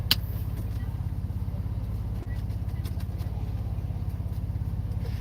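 Car idling at a drive-through, with a steady low engine rumble running throughout at a constant level, close and fairly quiet, and no talk.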